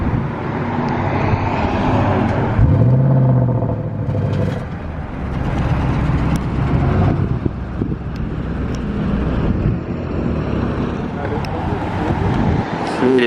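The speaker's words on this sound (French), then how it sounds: "RS6 et la RS7 qui part avec GMK au volant." An Audi RS7 drives off in Monaco, its engine rumbling and rising over traffic and wind noise as it pulls away, with people talking nearby.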